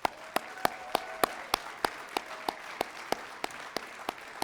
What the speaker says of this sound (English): So please give everybody a round of applause to Brad Armstrong from Qualico.